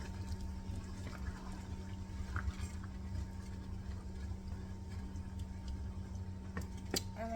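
Leftover seasoning liquid from the bowl that held seasoned chicken is poured into a cooking pot for Caribbean stew chicken, a faint, steady liquid pour under low kitchen hum with a few light clinks.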